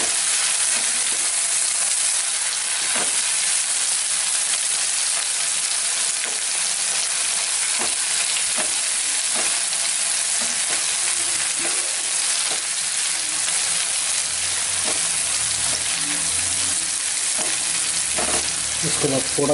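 Ginger garlic paste and green chillies fry in hot oil, a loud continuous crackling sizzle filling the whole stretch with scattered pops and occasional stirring scrapes.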